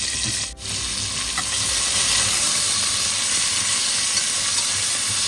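Whole spices, cinnamon, star anise and bay leaf, sizzle in oil in a pan for mutton kuruma, a loud continuous hiss after a brief dip at the start, no voices.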